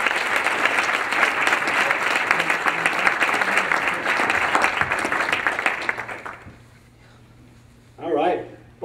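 Sustained audience applause and cheering at a Boston Marathon training clinic fills the space for several seconds, then fades out, followed by a short burst of a voice.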